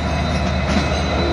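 A Norfolk Southern track geometry train reverses into a rail yard with a loud, steady rumble of rolling wagons and a faint squeal of wheels, close by and without talk.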